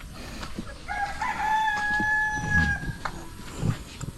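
A native rooster crows once, a long clear call at moderate distance, while soft clucks and farmyard sounds continue around it.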